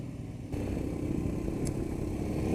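A Royal Enfield Himalayan motorcycle cruising in fourth gear on a hot day in Kathmandu, Nepal, its engine a steady, close mid-range drone with the throttle gently rolled on and off, joined by wind rush after the first half second.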